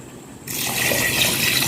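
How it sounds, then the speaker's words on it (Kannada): Water pours steadily into a cooking pot of rice for biryani, a sudden broadband rush that starts partway through and continues at a constant level to the end. "ನಾನು ನೀರು ಹಾಕಿಕೊಳ್ತಿದ್ದೇನೆ"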